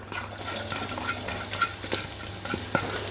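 Chopped garlic frying in a spoonful of oil in a kadai for a South Indian brinjal kuzhambu, a steady low sizzle with light stirring scrapes and a few utensil clinks, close and fairly quiet, no talking.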